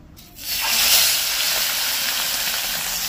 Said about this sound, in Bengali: তেলটা পুরোপুরি গরম হয়ে গেছে, একটা একটা করে মাছ দিয়ে দেবো